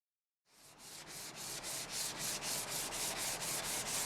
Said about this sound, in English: Here I'm dry sanding the body with 400 grit.